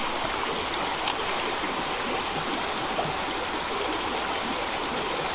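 Fast-flowing current of the Tokachi river in Hokkaido, a steady close rushing wash of water filling the whole stretch, with a couple of faint knocks and no talk.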